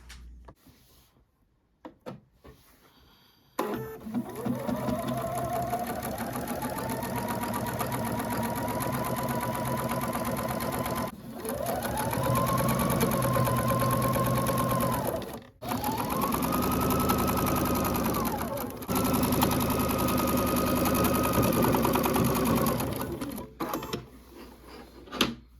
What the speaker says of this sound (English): let's sew the top and the bottom together